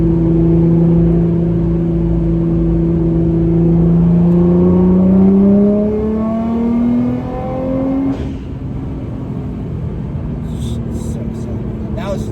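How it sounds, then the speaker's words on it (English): A tuned Nissan GT-R rolls on the throttle in fourth gear with rolling anti-lag, the engine note climbing loudly and steadily before easing off, followed by sharp popping bursts near the end. "See if we can get a little rolling anti-lag going on here too."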